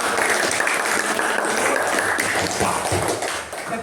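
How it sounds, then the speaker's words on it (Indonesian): Students in a classroom applaud a group presentation, dense and loud continuous clapping that fades slightly at the end, with no talking. "Tepuk tangan untuk kelompok"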